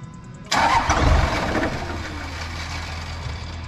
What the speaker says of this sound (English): give it a crank. We'll see if it fires.